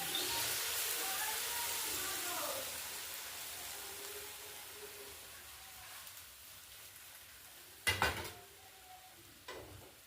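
Milk goes into lightly toasted semolina in a hot pan, giving a soft, rain-like hiss that fades away over several seconds, followed by a couple of quiet clinks near the end.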